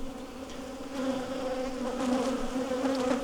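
Honey bees hum around an open hive in a farm yard, a dense, steady buzz with a clear droning pitch that grows slightly louder, close by and uninterrupted by talk.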